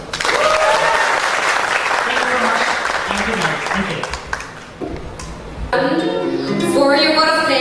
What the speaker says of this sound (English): please let us keep a round of applause for all of us.